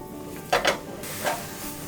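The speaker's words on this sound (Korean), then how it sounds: "자, 이대로 바로 양송이 볶을 겁니다" Button mushrooms sautéing in butter in a pan for mushroom soup, a faint sizzle broken by a few soft stirring scrapes, with no talking.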